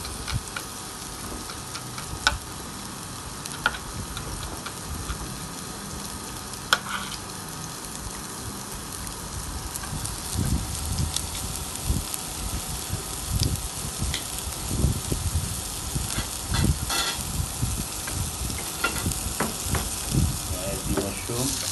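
Onion and chopped garlic fry in a pan with a steady broadband sizzle, joined by occasional clinks and stirring scrapes, and the hiss grows louder and busier partway through. No one speaks.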